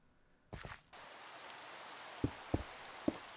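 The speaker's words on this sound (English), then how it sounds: "Just in time for the rain." Steady rain hiss in Minecraft survival, a soft even wash that starts after a brief burst, with three short low thumps like footsteps or block placements cutting through near the end.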